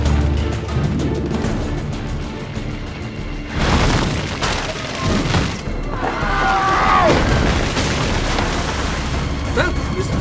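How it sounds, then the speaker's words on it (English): Firecracker explosions in the video game Assassin's Creed 2: several loud booms and crackling bursts, near and far, over continuous crowd and ambient game noise. "Probably just kids with firecrackers."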